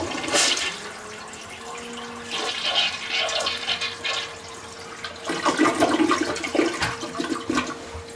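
A toilet flushes with a loud rushing gush of water, followed by swirling and refilling sounds, with a second surge of water near the end and no talk.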